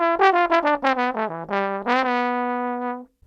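A G Mixolydian scale played as a run of distinct melodic notes over a 2-5-1 jazz progression, the notes stepping up and down against a sustained lower tone before a long held final note, alone with no talking.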